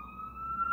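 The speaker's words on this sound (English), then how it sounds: "I'm gonna bet that's a fire truck. No, that's an ambulance. Oh, fire truck! I was right." A fire truck siren passes in a city street, its steady wailing tone rising slightly in pitch and growing louder over a brief moment, with faint traffic rumble underneath.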